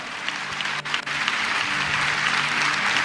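A crowd at a fasting prayer meeting claps together in a sustained burst of applause, dense and fairly loud, holding steady after a brief dip near the start.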